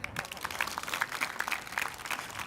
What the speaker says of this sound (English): we have to give him a round of applause for that